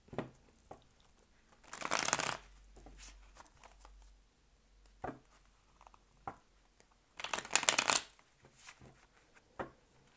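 Osho Zen tarot cards being shuffled in two bursts of riffling flutter, with soft handling rustles and taps between them, close and fairly quiet.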